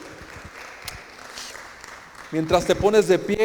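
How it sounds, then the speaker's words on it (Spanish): A church congregation breaks into loud applause after a moment of quieter room sound and a voice speaking, the clapping dense and close for the final second. "¿Por qué no le das un fuerte aplauso al Señor?"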